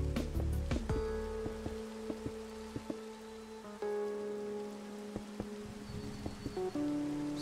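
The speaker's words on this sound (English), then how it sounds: "I like the sound of raindrops." Rain falling in Minecraft, steady pattering of drops on surfaces, close and continuous with scattered sharper taps, with no talking.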